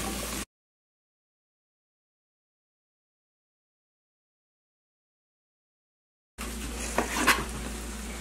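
A frying pan sizzles while food sautés for chicken fajitas, heard only in a brief burst at the start and again over the last couple of seconds, with silence between.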